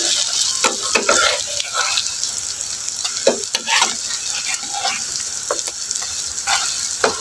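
Pitha cakes frying in a pan of hot oil, a steady loud sizzle with occasional scraping stirs and clinks of a utensil against the pan, close up.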